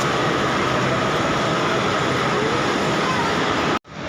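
A broad, steady rumbling roar fills a railway platform at Egmore station as a train stands or moves nearby, loud and unbroken until it cuts off abruptly near the end, with no talking.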